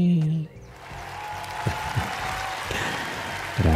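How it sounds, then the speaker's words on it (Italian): Sustained crowd applause sound effect in a trader life simulator game, a steady wash of clapping starting abruptly after a brief moment of talk and running at even volume with a few louder thumps. "facciamo un grande applauso a zio Dab che spende tanti soldini"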